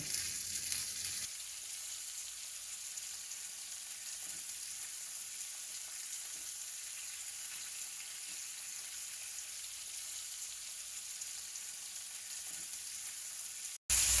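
Bacon frying in a pan over medium heat, a faint, steady hiss of fat crackling, even and close, ending with a brief sharp knock.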